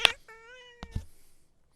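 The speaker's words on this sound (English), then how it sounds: "Say hi to everybody. Meow. Meow. Meow." A cat gives one clear, close meow after a sharp click, followed by a couple of soft thumps and rustles.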